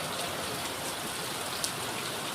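A heavy summer downpour pours down as a dense, steady hiss that never lets up, with no voices.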